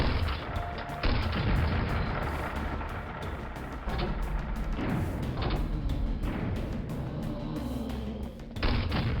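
Grenade launcher shots and explosions in a Quake video game, a dense, loud barrage of booms and heavy thuds with a few sharper bursts, no voices.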